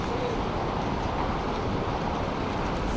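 A Moscow metro train runs fast through the tunnel, a steady loud roar and rumble that fills the whole stretch without a break.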